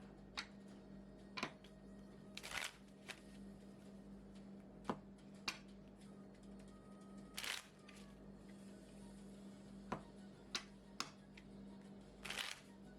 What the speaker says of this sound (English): So we'll go ahead and shuffle up the deck now.